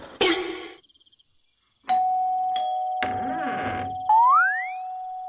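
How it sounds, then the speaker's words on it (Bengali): A cartoon doorbell pressed repeatedly, giving several sustained electronic ding-dong tones with sharp onsets and a rising boing-like sweep, loud and close with no talk. "চল দরজার বাইরে কার্তিকটা এলে কলিং বেলটা টিপে দৌড় দি"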